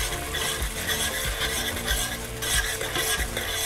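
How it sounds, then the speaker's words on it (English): A spoon stirs an onion and tomato gravy for chole in a pan over a medium flame, with steady loud sizzling and frequent scraping strokes and no talking. "I'll put the flame again back to medium and I'll just stir this."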